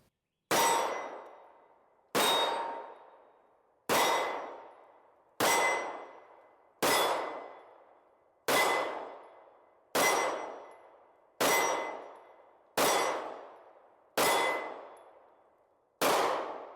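H&K CC9 pistol fired at steel targets on a range, eleven sharp bangs with ringing clangs at an even pace of roughly one every one and a half seconds, each decaying quickly.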